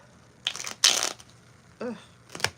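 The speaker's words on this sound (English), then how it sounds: "I just shuffled and shuffled and shuffled." A deck of playing cards is shuffled close up in several short, crisp riffling bursts separated by pauses, with a brief voiced sound between them.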